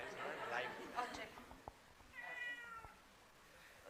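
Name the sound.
cat meowing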